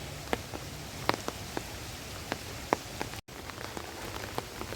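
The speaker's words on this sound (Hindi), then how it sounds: "फिर रात के बाद फिर लग गई है, अभी भी लगी हुई है।" Steady rain falls continuously in Haridwar during a red-alert downpour, a dense even hiss with scattered louder drips and patters, no voices.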